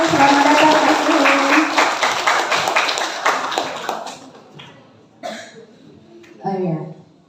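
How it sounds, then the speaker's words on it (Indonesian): Lively applause fills a school hall at an Indonesian book roadshow as a guest speaker is welcomed, dense clapping that tapers off after about four seconds, followed by scattered talk and a few coughs. "kita akan langsung sambut dengan tepuk tangan yang meriah untuk kakak kita Kak Suhe"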